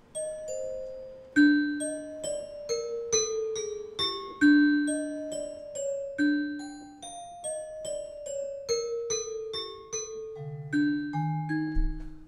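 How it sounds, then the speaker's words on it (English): Bright trap-style bell samples from the Zource Bangerz expansion play a melodic run of struck notes, each ringing briefly with metallic overtones in a steady rhythm, loud and close, with no voices. "A lot of bells are needed for trap music"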